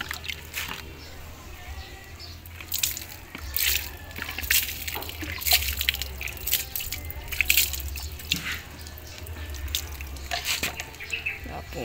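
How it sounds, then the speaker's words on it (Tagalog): Water rinses over an alloy motorcycle swing arm, making irregular splashes and drips that come and go close by for the whole stretch. "Malawan mo natin ang tubig."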